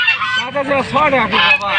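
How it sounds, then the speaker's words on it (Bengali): Large geese at a rural duck and goose market in Mahadevpur, Naogaon, honking loudly and close in a continuous run of nasal calls. "বড় বড় রাজহাঁসে দাদা আনে তো প্যাতি হাঁস অনেক আছে"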